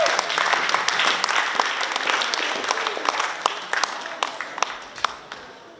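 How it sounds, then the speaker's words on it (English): Audience applause at a graduation ceremony in Pohnpei, a full crowd clapping steadily, with sharp individual claps standing out as the sound gradually thins. "Let's all give them a big round of applause."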